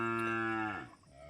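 A cow on an Indian farm gives a single loud, close moo, a sustained low call that falls in pitch and trails off, with no voices.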